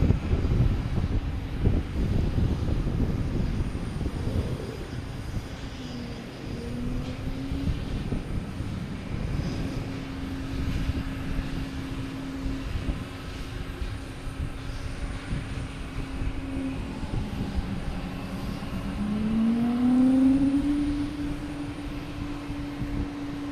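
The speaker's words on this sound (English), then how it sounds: "We got a JetBlue coming in next, coming in from West Palm Beach. And we have a Southwest taking off" Jet airliners at Logan Airport, a Southwest jet departing and a JetBlue arriving, roar with a sustained, distant engine rumble that swells and fades over wind noise, with no talking.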